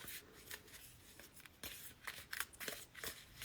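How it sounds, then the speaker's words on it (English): Tarot cards shuffled by hand in a quiet room, a soft irregular run of riffling flutters and paper slaps, close and fairly faint, with no voices. "I switched hands and I try to shuffle with this side now."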